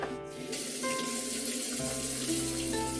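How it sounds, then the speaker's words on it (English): A kitchen tap runs steadily while hands are washed underneath, a continuous close splashing stream with no talk. "so I'm going to wash my hands again"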